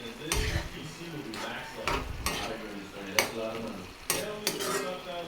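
Vegetables sautéing in a pan for fried rice made from leftover dishes: steady sizzle and frying with repeated sharp scrapes and clanks of a utensil stirring against the pan.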